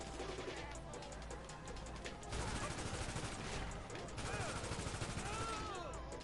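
Enemy gunfire in Grand Theft Auto rattles in dense, rapid bursts like a machine-gun fusillade, loud and continuous, with someone talking over the shooting.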